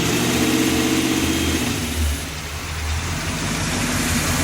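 Engine of a 1966 Chevy running with the fan blowing, a steady mid-pitched idle rumble with a brief dip and swell in revs, loud and close, no talking.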